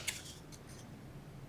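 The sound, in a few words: cutting paper box template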